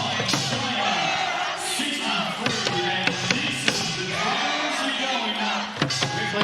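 A crowd at a Korea versus China women's basketball game in FIBA Olympic pre-qualifying cheers and shouts, with sharp drum hits punching through the noise at irregular moments and voices mixed in.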